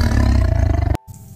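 A tiger gives one loud, close, throaty roar that pulses for about a second, then cuts off sharply, leaving a quiet low tail.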